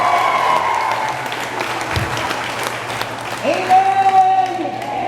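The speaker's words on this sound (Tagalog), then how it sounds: "Lahat ng pumalakpak na yun, bonus na naman para sa Diyos." A church congregation at an El Shaddai service claps and applauds, a broad wash of hand claps and crowd noise running throughout, with voices and a brief rising tone near the end.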